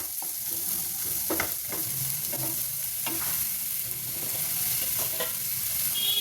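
Carrots frying and being stirred in a pan over a full flame, a steady close sizzle broken by scraping strokes of the spoon, with no talking.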